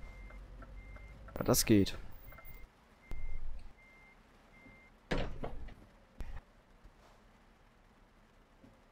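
Truck in Euro Truck Simulator 2 sounding faint, evenly spaced reversing beeps in the background, mixed with door and clunk noises and someone speaking briefly.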